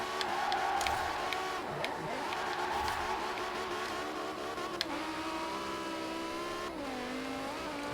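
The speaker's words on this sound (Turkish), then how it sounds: "Araba bağırıyor, bağırıyor." A BMW M5 E60 V10 engine roaring steadily in Forza Horizon 4 while drifting through a city on lightly icy roads, a loud continuous high-pitched drone with rising and falling revs and gear changes throughout.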